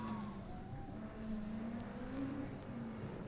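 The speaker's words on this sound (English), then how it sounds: "That was TU Berlin with their squeaky brakes" TU Berlin Formula Student race car in an endurance event at FSG 2012, its brakes squeaky, driving past at moderate distance with a steady engine drone and faint high squeal tones.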